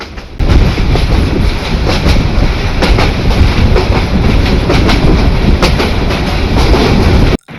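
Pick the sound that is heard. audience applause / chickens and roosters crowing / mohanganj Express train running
mohanganj Express train running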